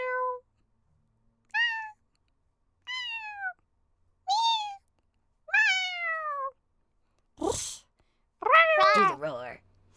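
A person imitates cute cat noises with a run of six separate high-pitched meows, evenly spaced and clear, then a breathy huff and a longer wobbly yowl at the end.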